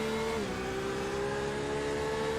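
Race car engines in the iRacing game at Motegi hold a loud, steady high-pitched drone, with one engine's pitch dropping as it shifts or brakes, running continuously without a break.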